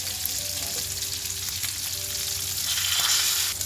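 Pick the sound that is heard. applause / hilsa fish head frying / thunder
hilsa fish head frying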